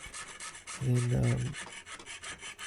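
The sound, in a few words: filing a silver watch part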